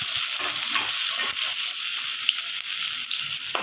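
Cauliflower and onion sizzle steadily in a hot pan, a continuous crackling hiss with occasional faint stirring sounds.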